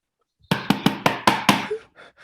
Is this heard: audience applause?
no